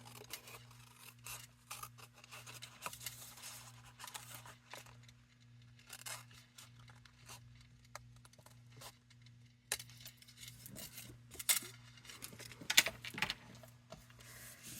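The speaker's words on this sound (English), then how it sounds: "Then we'll flip it over and we will cut off our excess." Scissors snip off excess paper card in a papercraft session, faint scattered cuts and rustles at close range against a low background hum.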